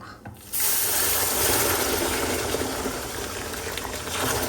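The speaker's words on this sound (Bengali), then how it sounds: "এখন আমি পানিও দিয়ে দিব" Water is poured into semolina that has been frying in a pan for halwa. A brief quiet moment gives way to a sustained, close gushing splash that continues steadily to the end.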